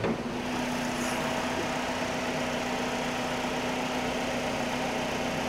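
A 2010 Chevrolet Malibu LS engine idling with a steady, smooth hum and even tone, close and moderately quiet, with no talking.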